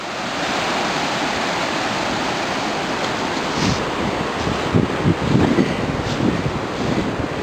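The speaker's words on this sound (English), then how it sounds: "Back to the waterfall." A waterfall in a snowy forest along an old road roars in a steady, broad rush close by, with gusty wind buffeting the microphone in the second half.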